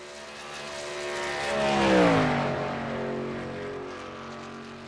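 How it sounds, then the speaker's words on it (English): Racing trucks in a qualifying session at Michigan in a racing game pass by with a low-revving engine drone, swelling as one sweeps close with a falling pitch, then fading under a steady background roar. "Hear the low RPM in these trucks here in qualifying."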